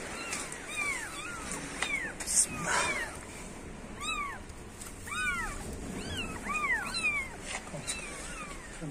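A cat meows repeatedly in short rising-falling cries, fairly close, over a soft outdoor background, with a few other faint noises between calls.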